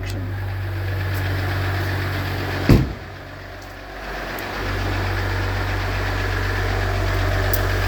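A car engine idles nearby with a steady low knocking rumble, broken by one sharp clunk, a brief dip as the idle drops, then a return to the even, diesel-like clatter.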